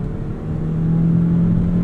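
A hybrid car switched into sport mode accelerates hard, its engine and motor building into a steady, close drone that grows louder and holds, with no talking.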